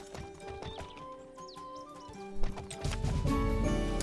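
Horse hooves clip-clopping at a gallop during a race in the video game Alicia Online, a rapid rhythmic beat with a brief whinny, set against game music and a swelling crowd-like roar near the end.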